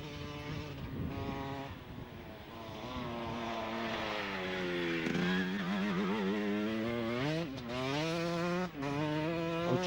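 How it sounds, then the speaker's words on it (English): A KTM enduro motorcycle at the 1995 Scottish enduro event rides past, its engine note loud and continuous, rising and falling in pitch as it revs through a corner with no voices. "Next rider to come through was Stuart Hetherington on his Squires KTM"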